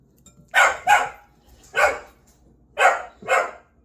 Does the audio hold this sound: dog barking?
yes